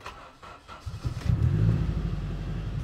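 A turbocharged K24-swapped Honda Fit with a 3-inch exhaust and Vibrant muffler cranks and fires up, settling into a loud, close, steady idle rumble.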